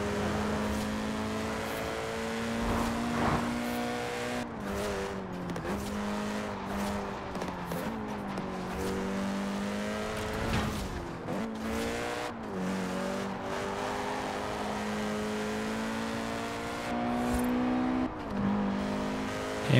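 Tuned VW Golf on wide semi-slick tyres in Forza Horizon 4, engine droning loudly and continuously with rising and falling revs through gear changes, occasional tyre squeal, no talk.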